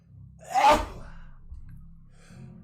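A single sharp sneeze bursts out close by, followed by quiet low rumble and faint movement.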